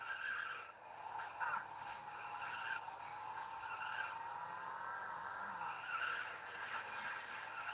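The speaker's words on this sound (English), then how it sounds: "Apparently, astromech droids can drive cars." A car driven by an astromech droid in a Lego Star Wars-style video game, with steady skidding and tire-squeal noise over a continuous engine hum, moderately loud and without speech.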